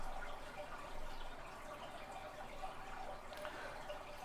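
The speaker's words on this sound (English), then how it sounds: "pouring it into cups." Shirley Temple-flavored agar jello shot liquid poured into small cups, a continuous close, soft watery trickle and patter running steadily without any voices.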